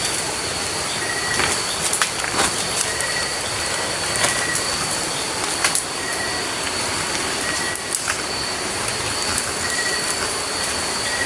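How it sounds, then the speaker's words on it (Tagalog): Rushing water of a stream below a ravine, a steady broadband roar filling the scene at constant loudness, with a few faint clicks and knocks over it and no talk. "Naririnig nyo guys yung tunog ng tubig."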